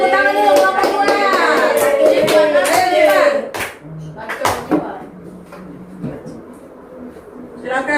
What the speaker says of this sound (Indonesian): Oke, kelompok 2 silakan tepuk tangan dulu kelompok 2.